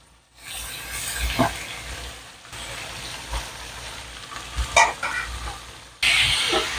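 Beetroot frying in a pan for poriyal, with a few spoon scrapes and soft sizzling across several seconds and a brighter burst near the end, heard close and fairly quiet with no talk.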